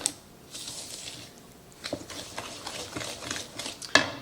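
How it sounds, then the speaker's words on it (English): A store-bought egg is whisked in a bowl while making zucchini bread, with quiet, quick scraping strokes that grow busier toward the end and finish on a sharp clink. "Okay, give this a whisk up."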